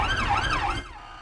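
An ambulance siren wails in rising and falling sweeps, fairly close and loud, then cuts off abruptly after under a second.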